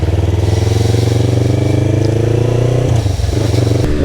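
A motorcycle engine revs steadily and loudly up close, holding a rough, throbbing note for about three seconds before easing off and catching again.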